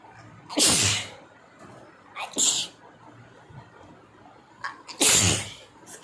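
A person sneezes three times, loud and close, in sharp bursts separated by a couple of seconds of near quiet.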